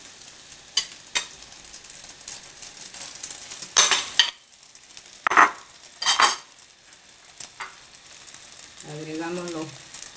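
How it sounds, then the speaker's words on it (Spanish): Potatoes go into a pan of frying broad beans and corn, with a quiet sizzle and a few bursts of scraping and stirring, then a brief spoken voice near the end. "Ahora aquí agregamos las papas."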